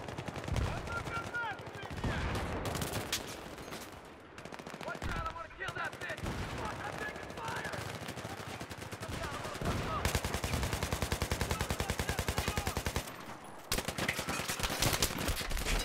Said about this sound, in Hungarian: Az meg lövök beléjük egy tárat.